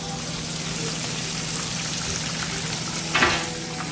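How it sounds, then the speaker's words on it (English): Fish frying in oil in a pan makes a steady, close hiss of sizzling throughout, with one brief louder crackle or splatter near the end and no talk. "this is how you actually make fried fish"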